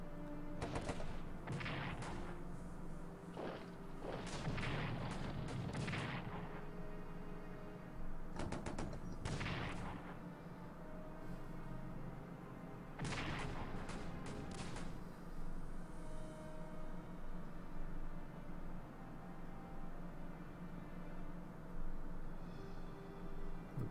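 Strategic Command: World War I strategy game, cavalry attacking artillery: several bursts of booming gunfire and rattling shots come in clusters over a steady low background hum, with quieter gaps between them.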